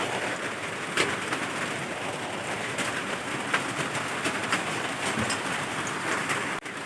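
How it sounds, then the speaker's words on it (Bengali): Semolina gulab jamun sweets frying in hot oil, a continuous dense sizzle and crackle with scattered pops, steady and moderately quiet throughout. "তো একইভাবে আমি সব মিষ্টিগুলোই ভেজে নেব।"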